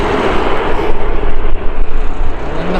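Aircraft flyby at Manchester Airport, a loud, steady broadband engine roar that fills the whole moment with slight surges and no voices.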